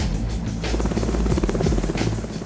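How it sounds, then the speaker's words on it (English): An MH-65D Dolphin helicopter, a European-built Coast Guard machine, flies nearby with a loud, steady rotor thrum and engine whine that runs throughout without pause. "The other half of this awesome double act is the MH-65D Dolphin helicopter, a European speed machine adapted for U.S."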